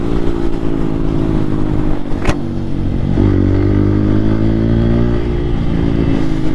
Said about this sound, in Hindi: तो आपको साउंड चेक कराता हूँ बाइक की